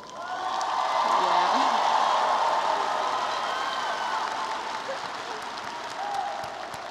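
Sustained, dense applause from a large audience honoring graduates at the UNCG 2014 fall university commencement, steady and broad throughout with faint tonal sounds drifting over the clapping.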